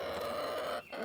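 A nine-year-old Sussex rooster clucks in one sustained, fairly loud call that breaks briefly near the end before resuming, heard up close with no talk.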